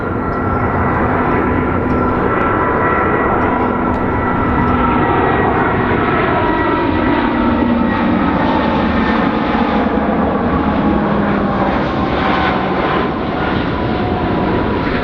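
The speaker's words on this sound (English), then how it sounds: "It's when those planes fly overhead, you kind of have to stop your conversations." A propeller airplane drones loudly over Minneapolis's Nokomis neighborhood, a steady engine roar with a slowly shifting pitch that swells and lingers throughout, with no voices.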